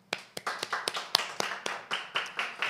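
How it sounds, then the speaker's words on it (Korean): A small audience at an academic cultural studies seminar in Korea claps for two speakers, sounding as a sparse, uneven series of distinct handclaps, each crisp and separate, close and moderately loud. "두 분께 박수 드립니다"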